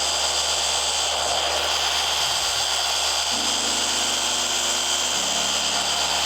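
Car polisher running steadily on wet-sanded paint to remove sanding scratches, a continuous loud motor whir with a broad hiss, its hum shifting pitch partway through as pressure or speed changes.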